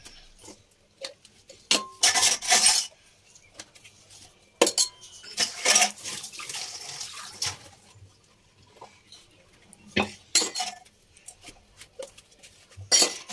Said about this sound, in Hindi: और अभी मैं धो रही हूँ बर्तन।